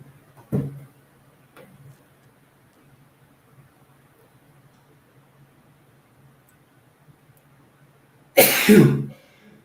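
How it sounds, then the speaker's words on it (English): A single violent sneeze bursts out loudly near the end, after a quieter cough-like sound and faint background hum earlier. "That was a violent sneeze."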